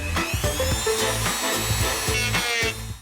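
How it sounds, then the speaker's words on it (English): A Dremel rotary tool grinds into hard cured epoxy resin, a continuous high whine with shifting pitch and bursts of rough cutting, close and loud throughout, no talking. "So then comes the Dremel."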